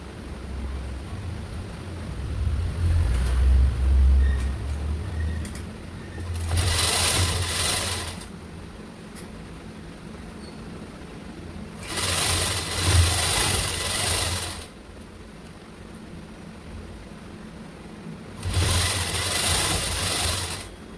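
Bursts of a sewing machine stitching a blouse come in three short runs of a few seconds each, a close rapid whir separated by quieter pauses with low background rumble and no speech.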